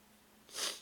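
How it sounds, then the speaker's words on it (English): A single short, wet sniffle rises in a quick burst of breath near the microphone, from someone with a runny nose. "My apologies for sniffling and snuffling and rubbing your nose into the microphone."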